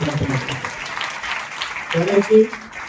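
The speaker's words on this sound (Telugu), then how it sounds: "చప్పట్లు కొట్టి దేవుడికి" A church congregation at a Sunday service claps hands for God, a scattered patter of claps rising briefly under a preacher's ongoing talk.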